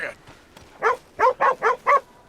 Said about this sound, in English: The dog bit me.